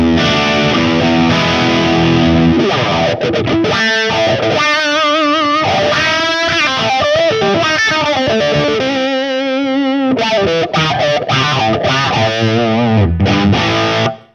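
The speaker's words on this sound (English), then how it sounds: "I've got an emerald green distortion" Electric guitar played through an emerald green Barefoot boutique distortion pedal, a loud, thick driven tone with sustained chords and note runs ringing continuously with no talking.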